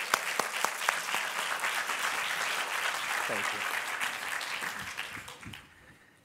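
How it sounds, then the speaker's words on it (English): At a change management conference, an audience gives a sustained round of applause as the presenter takes the stage. The clapping stays dense and even, a voice briefly says thanks, and the applause fades out at the end. "let's all welcome Mike to the stage with a big round of applause."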